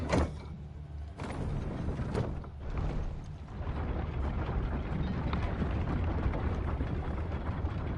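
Mechanical rumble and a heavy sliding clank of elevator machinery and doors in Final Fantasy XVI, a sharp opening thud followed by steady grinding motor noise with further knocks, fairly loud and without speech.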